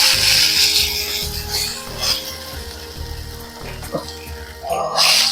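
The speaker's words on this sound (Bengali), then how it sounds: "এবার নেড়ে চেড়ে ভেজে নেব।" Sago pearls are stirred and fried in a little ghee in a wok over a low gas flame, giving rhythmic scraping and rasping strokes of the spatula against the pan with a soft sizzle underneath.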